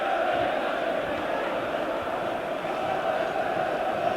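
A football stadium crowd at Sunderland v Tottenham, an FA Cup fourth-round match in 1995, fills the air with a steady, dense roar that never drops away.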